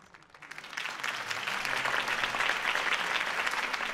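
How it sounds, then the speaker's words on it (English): A crowd in the Batman Telltale game bursts into applause after a campaign speech, swelling quickly from a few claps into a dense, sustained ovation with no voices. "could have heard that applause"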